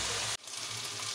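Crab frying in a spice masala in a hot pan, a steady loud sizzle that cuts out for a moment and then picks up again as the pieces are stirred, with no voices over it.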